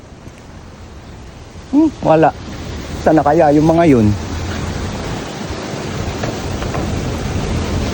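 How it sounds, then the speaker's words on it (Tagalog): Strong wind blows steadily across an open sandy outdoor area, a continuous broadband roar that runs the whole time while a few people speak briefly near the start and middle. "Sobrang lakas ng hangin, no?"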